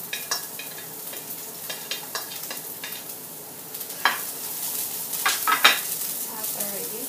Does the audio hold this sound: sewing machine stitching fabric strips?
no